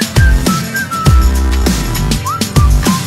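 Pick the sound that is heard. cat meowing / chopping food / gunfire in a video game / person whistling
person whistling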